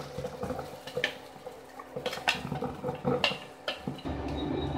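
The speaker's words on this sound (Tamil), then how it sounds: "காஞ்ச அப்புறம் தக்காளி இதை போட்டுருங்க." Tomatoes dropped into hot sesame oil in a pan for tomato pickle, with clinks of a utensil against the pan and soft sizzling that grows steadier at the end.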